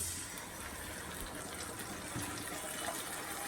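Chili and turmeric paste mixed in water pours into a pan of frying onions, making a soft, steady sizzling hiss that stays faint and even throughout, with a small knock at the very end.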